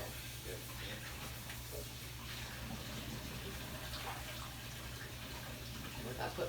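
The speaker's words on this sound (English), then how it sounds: "just rinse all of these string beans off" Running water rinses fresh string beans in a kitchen, a steady close hiss and splash of flow continuing throughout, with a low hum underneath and faint voice sounds mixed in.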